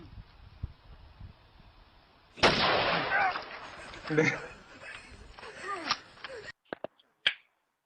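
A shotgun fires in a stunt, one loud sharp blast followed by a ringing, crackling tail and a few shorter cracks and thumps.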